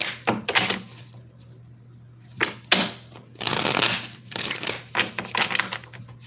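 Several quick bursts of a tarot deck being riffle-shuffled, crisp and close, separated by short pauses.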